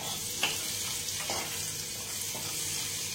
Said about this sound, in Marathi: आलं लसणीची पेस्ट घालणार आहोत आपण, मिरची आणि कढीपत्ता घालायचा आहे।